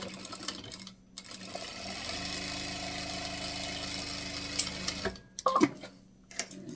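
Sewing machine running a straight seam with a backstitch at the end, its steady mechanical whir lasting several seconds between brief pauses, with a few small clicks and handling noises near the close.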